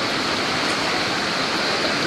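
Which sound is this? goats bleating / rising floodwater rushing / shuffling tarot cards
rising floodwater rushing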